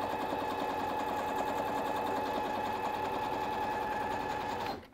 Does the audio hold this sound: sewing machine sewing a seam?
yes